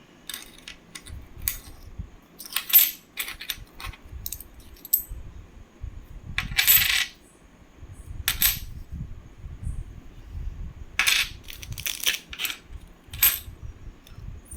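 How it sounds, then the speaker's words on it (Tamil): Collectible Indian coins with security and reeded edges are set spinning on their edge on a hard surface, giving repeated metallic clinks and rattles in bursts across the clip, with no talk. "காயினை சுற்றிக்கிட்டே இருக்கேன்."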